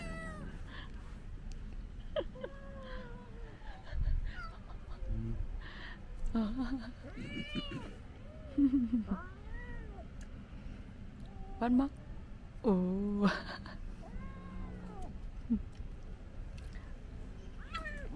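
A pack of cats meows and yowls in repeated squabbling cries during an outdoor barbecue, fairly close, mixed with a person's occasional speech.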